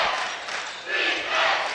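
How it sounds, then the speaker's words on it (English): McKenzie fans cheer at a boys' basketball championship game in a gym, a loud surging roar of crowd noise that swells in waves across the brief moment. "McKenzie crowd finally awake."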